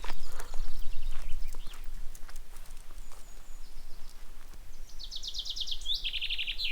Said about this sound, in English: Nothing but the sound of the birds.